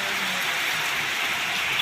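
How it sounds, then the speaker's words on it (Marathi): Heavy rain pours down in a dense, steady hiss that holds evenly throughout, with no pauses. "हे पाऊस बघा मित्रांनो, जोरदार पाऊस चालू आहे बघा"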